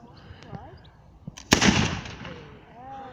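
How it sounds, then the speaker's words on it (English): A black powder gun misfires at a castle reenactment with a single sharp crack and a fizzing, hissing tail that fades over about a second. It is heard at middle distance, with people talking before and after. "Here's the misfire."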